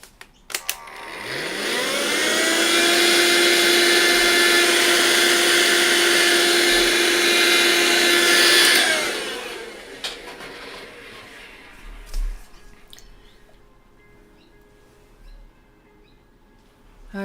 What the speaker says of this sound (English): Vacuum again.